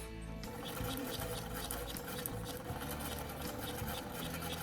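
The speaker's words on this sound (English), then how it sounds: "we're going to run just a basting stitch between these two dots." A sewing machine runs steadily on a long basting stitch along a doll dress sleeve cap, a continuous close mechanical whir with fine rhythmic needle ticking and no talk.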